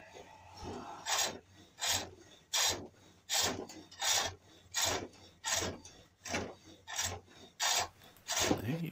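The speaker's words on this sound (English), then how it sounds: "use the side of the hook to bite into the wood to just take the fine wispy shavings off" A hook tool shaves a cherrywood bowl turning on a pole lathe, giving about a dozen rasping scrapes in a steady back-and-forth rhythm, close and fairly quiet, with no talking.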